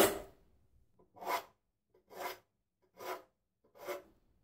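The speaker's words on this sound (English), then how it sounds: "I'm using this 3/16 trowel just to level it" A 3/16 trowel spreads thin set for a shower tile niche in five separate rasping scrapes at a steady pace, each about half a second long with silence between, close and fairly quiet.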